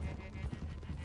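Horses' hooves clip-clopping in the video game Red Dead Redemption 2, a quick, faint run of beats at a steady gallop with no voices present.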